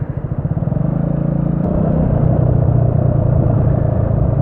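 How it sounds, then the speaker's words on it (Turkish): A steady low engine drone rumbles throughout with a slight rise partway, like a motorcycle running close by; no voices. "Nedir bu? Motosiklet."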